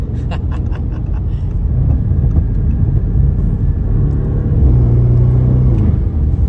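A powerful car engine rumbles loudly up close, with a deep steady drone that swells into a stronger rev partway through.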